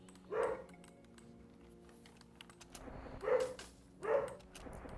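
Dogs barking in a front yard at someone trying to play with them, three short muffled barks heard faintly at a distance over a quiet background, with no one speaking.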